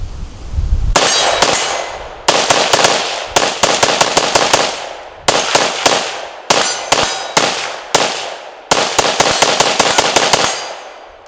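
A PSA AK-E rifle fires during accuracy testing outdoors, loud close shots in quick strings and rapid bursts with pauses between groups, each crack sharp with a brief ringing decay.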